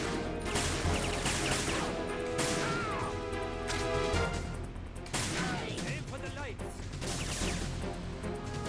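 Gunfire in the Metal Gear Solid 2 video game, with sharp shots and glassy smashes as lights are shot out, dense and loud over game music and ambience, with voices talking alongside.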